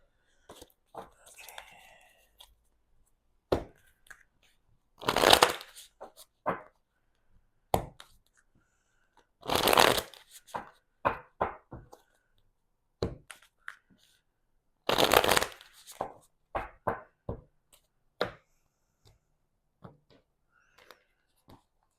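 Tarot cards being shuffled in three loud riffling bursts, with softer taps, flicks and card handling between them, close and with no talking.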